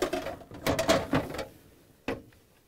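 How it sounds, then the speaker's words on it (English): A refrigerator's ice bucket and auger assembly lifted at the front and slid out of the freezer: a quick cluster of plastic clacks and scraping rattles, then a lone sharp knock, close and fairly quiet. "To remove the ice bucket and auger assembly, we need to pull up the front end, and then we can pull it out."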